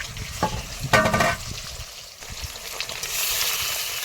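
Shrimp malaikari frying at night, a steady close sizzle with stirring scrapes and a louder hissing surge toward the end.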